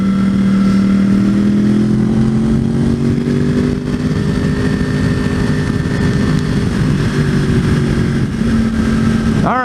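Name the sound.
motorcycle riding on highway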